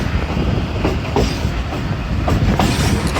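Khyber Mail train rolling past Attock Khurd station and onto the Attock bridge near a sharp curve, a steady loud rumble with rhythmic clickety-clack of wheels over rail joints and brief metallic squeals.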